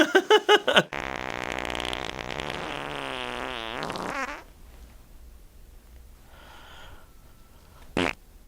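A long, loud, buzzing fart with a wavering pitch runs for several seconds, followed by a short quiet stretch and a brief sharp noise.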